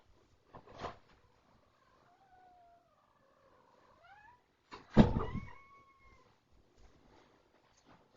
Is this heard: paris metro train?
no